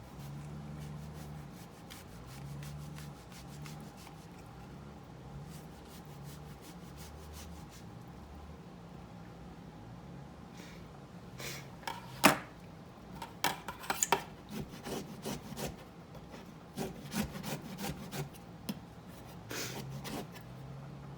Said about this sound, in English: And now we're just going to add a little bit of lemon zest.